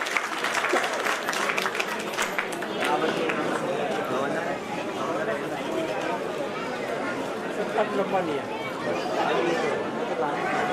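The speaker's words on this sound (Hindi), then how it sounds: "आपकी भरपूर तालियों में निसार खुद साहब से दरख्वास्त करूँगा कि वो तशरीफ लाएं।" Audience at a formal event in Karachi applauding as a guest is invited onto the stage, steady clapping blended with crowd chatter for the full duration, with talking over it.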